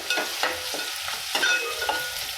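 Onions and okra fry in a pan for bendakai fry, a steady close sizzle broken by several soft stirring scrapes at an irregular rhythm, with no one speaking.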